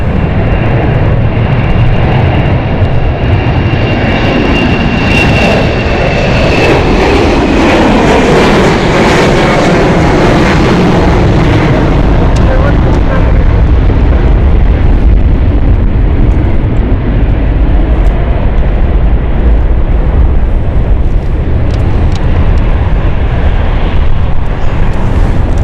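A jet on the Edinburgh flight at London City Airport, heard on a windy, stormy night: loud, sustained engine roar with a sweeping rise and fall as it passes close, wind noise underneath, and no voices.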